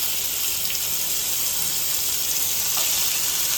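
Chicken pieces frying in hot oil in a pan for a homemade stovetop roast chicken, making a continuous hissing sizzle that stays steady and close, with faint crackles and no voices.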